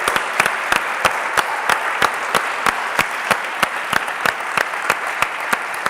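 An audience at a gala final applauds the Ennova team, sustained dense clapping with sharp, regular individual claps standing out close by, steady and loud for the whole stretch with no talking.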